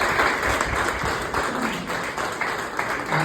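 A crowd applauds loudly and continuously at an indoor business event about orthopedic products, the clapping dense and close with faint voices beneath.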